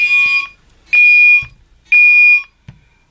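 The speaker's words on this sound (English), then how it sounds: "I can hear that piezo buzzer vibrating from all the way in my room" A fire alarm piezo buzzer sounds during an alarm test in three long, shrill tonal blasts with short pauses between, loud and harsh, each followed by a low thump.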